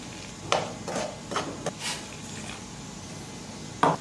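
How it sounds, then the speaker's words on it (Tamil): Wheat flour being stirred together with freshly boiled hot water in a bowl for a breakfast dough, giving a handful of short, soft scraping and stirring strokes that sit close but quiet against a low room background. "இப்போ நான் கொஞ்சம் கொஞ்சமாக சேர்த்து நான் மிக்ஸ் பண்ணிக்கிறேன்."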